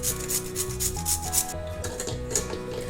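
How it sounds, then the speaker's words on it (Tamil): Carrot rubbed against a hand grater, a rapid rhythmic scraping of strokes close up, with a faint tonal background music underneath. "கேரட் கொஞ்சம் திருவி போட்டுக்கலாம்"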